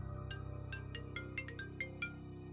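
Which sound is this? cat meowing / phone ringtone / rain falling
phone ringtone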